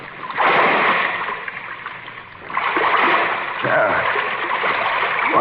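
Water splashes and surges in repeated bursts as someone wades through waist-deep water in a dark place. A voice speaks briefly over the splashing.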